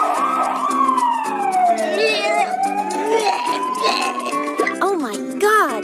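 A cartoon ambulance siren wails loud and close, its pitch sweeping slowly down and back up before quick rising whoops at the end, with no talk over it.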